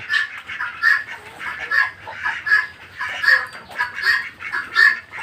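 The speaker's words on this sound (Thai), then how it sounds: "ก็จะได้ยินเสียงไก่ขัน เสียงไก่ตอกร้อง" Several chickens clucking nearby in overlapping bursts on a flooded farm, with occasional crowing calls among them, lively and continuous.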